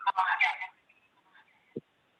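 A mobile phone going off during a committee meeting, giving a short burst of bright electronic ringing tones followed by a couple of faint beeps as it is silenced, alone in an otherwise quiet room.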